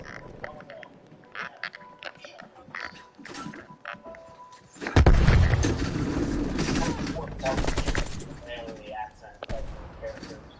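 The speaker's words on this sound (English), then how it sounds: "Shots." Video game gunfire erupts in a dense rapid burst midway, loud and sustained, with scattered quieter shots before and after, while players talk over the action.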